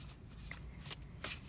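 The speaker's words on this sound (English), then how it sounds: "So let me shuffle the cards now." A deck of oracle cards being shuffled by hand makes soft, quick riffling and sliding bursts that come in several short pulses, close and quiet, with no talk.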